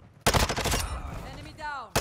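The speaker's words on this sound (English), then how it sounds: "Now he pulled out an actual gun." Machine gun fire from Call of Duty Modern Warfare II bursts in a rapid, loud string of shots up close, then trails off into echoing ricochet whines before another shot cuts in.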